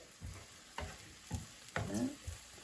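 Masala with garam masala frying and being stirred in a pan while making crab roast, with soft sizzling and repeated scraping strokes of the spoon, close and moderately quiet with no talking.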